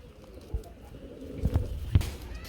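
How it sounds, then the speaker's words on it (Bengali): An old-breed Golla pigeon coos close by, a few low, soft throaty calls spaced out over a couple of seconds against quiet background noise. "এটা হচ্ছে পুরান জাতের গোল্লা কবুতর"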